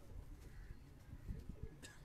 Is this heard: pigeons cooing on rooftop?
yes